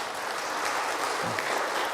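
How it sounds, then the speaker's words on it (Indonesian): Steady, dense applause from an audience at an Indonesian economic investment forum, evenly sustained with no clear pauses and no speech over it. "Boleh diberi tepuk tangan Bapak Ibu untuk di atas 8 ini"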